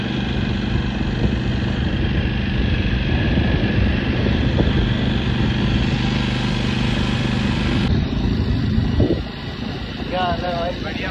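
A motorcycle ride produces a steady, loud engine and wind roar that continues throughout, easing slightly near the end as a voice speaks.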